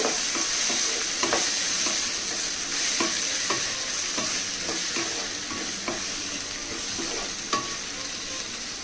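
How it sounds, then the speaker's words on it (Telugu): An egg curry with chilli powder stirred in a hot pan: a continuous soft sizzle with regular spoon scrapes and light taps throughout. "రెండు స్పూన్లు కారం వేసుకోవాలండి కారం మీకు రుచికి తగినట్టుగా వేసుకోవచ్చు ఇప్పుడు బాగా కలపాలండి"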